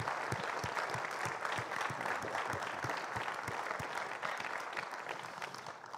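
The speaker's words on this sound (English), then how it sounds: "How about a round of applause for those folk and what they've done?" Audience at a spring music festival concert applauds, sharp individual claps standing out over a continuous wash of clapping, fairly distant and soft, tapering slightly toward the end.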